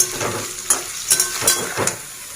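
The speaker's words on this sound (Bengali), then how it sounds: "আলুগুলো ভাজা হয়ে গেছে এবার তুলে নিলাম" Potato pieces fry in hot oil with a loud, continuous close sizzle, broken by several brief crackling bursts as they are stirred, with no voices heard.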